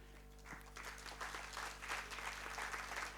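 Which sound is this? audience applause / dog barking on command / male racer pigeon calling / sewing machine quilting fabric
audience applause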